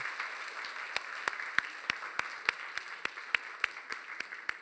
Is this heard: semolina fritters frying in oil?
no